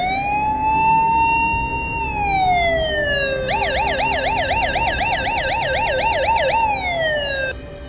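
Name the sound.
police van siren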